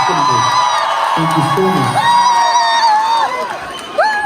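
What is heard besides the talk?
crowd applause at band's anniversary concert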